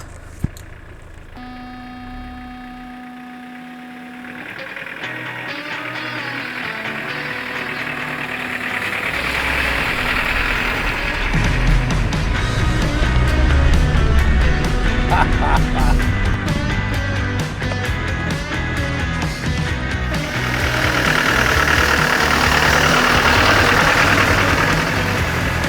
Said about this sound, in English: Now let's take it for a little drive.